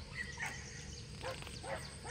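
Hunting dogs bark and yelp in short, uneven bursts at middle distance during a hunt near a road, with steady background noise under them.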